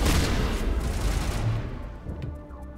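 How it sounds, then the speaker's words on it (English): Shotgun fire in the sci-fi shooter Mass Effect: a loud, dense burst of blasts right at the start that rolls off into a fading rumble, with a few faint clicks trailing after. "Shotgun."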